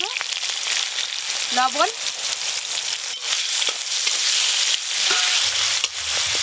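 Whole cumin, chopped tomato and turmeric powder fry in mustard oil for a tangra fish curry, with a loud, continuous sizzle and crackle near at hand while a voice briefly speaks.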